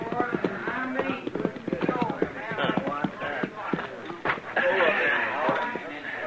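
Horse hooves clip-clop in a Western radio drama, a steady run of hoofbeats approaching a chuck wagon on the trail, heard under continuous narration from a voice.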